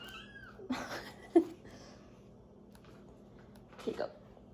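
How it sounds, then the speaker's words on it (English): A kitten mews in short, plaintive cries, a couple of calls spread across a few seconds over quiet room noise. "my kitten is sad"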